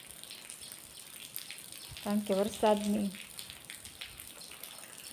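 Steady, continuous rain patters outdoors at a fairly low level, with a brief stretch of a person speaking partway through.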